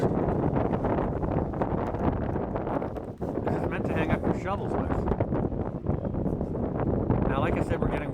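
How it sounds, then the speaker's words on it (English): Wind buffets the microphone in rough, rumbling gusts while someone talks through it. "we're getting wind gusts here"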